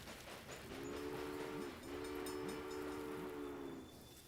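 A train in a train video game, with a steady rumbling run and a sustained two-tone horn blast that briefly dips and resumes, sounding moderately loud under a continuous mechanical background.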